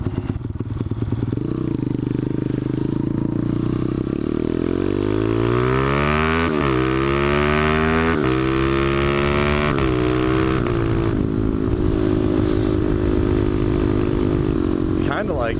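A motorcycle rides off through town, its engine revving up and shifting through gears with rising and falling pitch sweeps, loud and close under wind noise while a rider talks over it.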